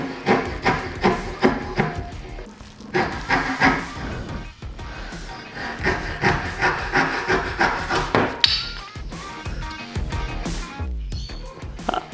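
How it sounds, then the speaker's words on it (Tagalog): Rhythmic rasping strokes of a hand saw cutting through wood, steady back-and-forth pulses close by with a brief pause midway. "Not sure if this is a saw or if it's a rip saw."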